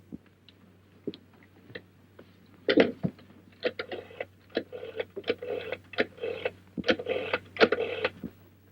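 A 1936-era telephone being used to call a number, with a series of clicking, ticking taps like a rotary dial turning and returning, sparse at first then denser and rhythmic, close and moderately loud.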